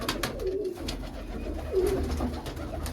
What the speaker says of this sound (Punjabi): ਇਹ ਵੱਡਾ ਕਬੂਤਰ ਹੈ